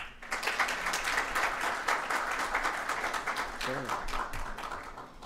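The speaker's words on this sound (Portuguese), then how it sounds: "Uma salva de palmas, por gentileza" Audience applause welcoming a speaker onto the stage at a lecture on law, a dense, steady wash of many hands clapping that holds at full strength for the whole stretch, with a few louder claps standing out near the end.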